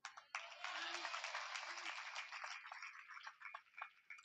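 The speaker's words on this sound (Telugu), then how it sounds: "చేతులతో చప్పట్లు కొడతా, నోటితో హల్లు చెబుతూ కొట్టండి." Church congregation clapping hands together at a gathering: a dense, steady burst of applause that starts abruptly and continues, thinning slightly toward the end, with a faint voice underneath.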